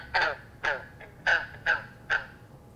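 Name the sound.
American toad call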